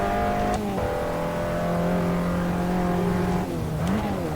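An Abarth 500 engine in the racing game Assetto Corsa drones steadily at high revs, with a few quick gear-shift drops and a short rise near the end, loud and continuous with no voice.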